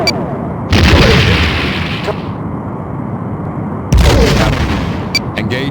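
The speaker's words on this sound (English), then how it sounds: "Enemy ship is firing. Direct hit." Weapons fire and impact booms from a starship battle in the PC game Star Trek: The Next Generation – A Final Unity, two loud bursts with rumbling tails separated by a few seconds, plus short sharp effects near the end.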